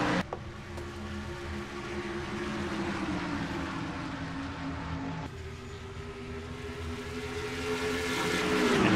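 Stock race cars roar in a video game race, their engines droning steadily with shifting pitch as the pack runs through turns three and four, with no voices over the engine noise.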